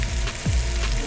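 Shrimp dropped into a hot pan sizzle steadily, a soft, even frying hiss held close up with a brief low thump as another piece goes in.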